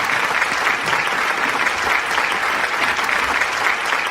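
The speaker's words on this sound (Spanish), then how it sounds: "Por favor, un fuerte aplauso para Diego Rosell" Sustained audience applause at a conference talk on the philosophy of psychology, a dense even wash of clapping lasting the full few seconds with no voices over it.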